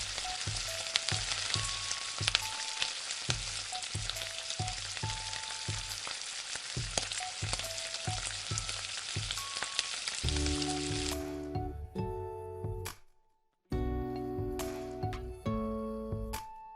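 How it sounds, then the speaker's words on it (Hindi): Rohu fish pieces dipped in gram-flour batter fry over low heat in mustard oil, giving a steady close sizzle with a repeating rhythmic thump as backing music that drops out near the end, then returns briefly. "लेकिन मैं इसको सरसों के तेल में ही फ्राई कर रही हूँ।"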